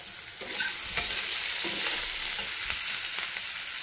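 Pointed gourd, potato, carrot and capsicum sizzle and fry in a pan, a steady close hiss with occasional stirring scrapes and no voices.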